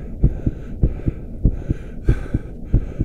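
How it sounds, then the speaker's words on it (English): A muffled heartbeat sound effect in a dramatic reading of Poe's The Tell-Tale Heart: steady, deep double thumps repeat about ten times in an even rhythm, dull and close, with no voices over them. "the heart beat on with a muffled sound"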